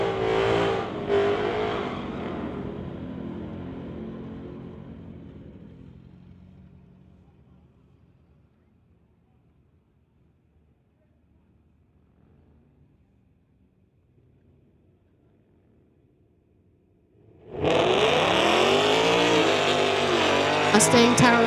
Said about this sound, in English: BMW versus Dodge action here.